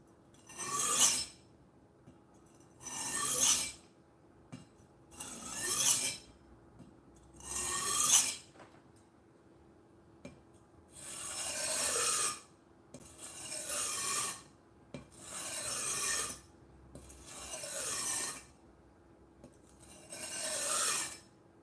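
A 30-plus-year-old vintage Chinese chef's knife drawn across a sharpening stone in about nine slow, even rasping strokes, close and clear with short pauses between, and no talk.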